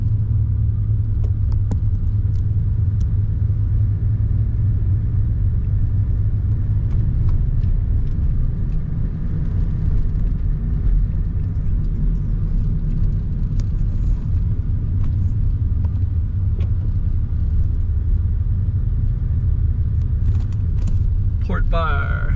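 A car driving north through the streets of Hamtramck, Michigan, near Detroit, with steady low road rumble and engine drone running throughout, heard from inside the vehicle at a constant, moderate level.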